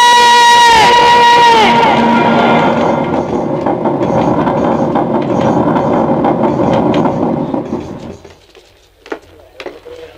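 A train sounds a loud, brief horn blast at a station, then rumbles and clatters past amid crowd noise and voices before fading to near quiet with a few clicks.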